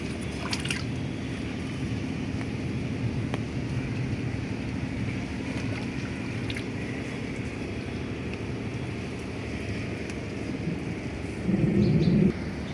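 Rain falls steadily on a rooftop garden under dark clouds, a constant even hiss of drops with no gaps and a brief louder patch near the end.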